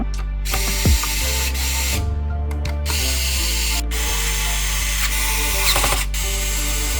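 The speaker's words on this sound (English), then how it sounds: "Now we're going to install all the screws that hold down the plastic cover." Screws being driven into the plastic cover of a Lenovo ThinkCentre all-in-one computer, with close ratcheting, clicking mechanical sounds over a steady low hum and no talking.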